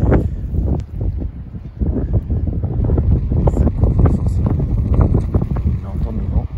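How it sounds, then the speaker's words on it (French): Steady wind buffeting the microphone during snowfall, with low rumbling gusts throughout and brief lulls. "On entend le vent."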